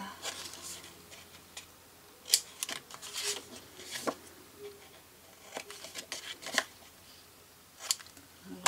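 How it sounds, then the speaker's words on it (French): Scissors snip small corners off folded paper while making a family photo album page, a scattering of crisp close cuts and rustles at irregular intervals, fairly quiet. "on va couper les petits angles"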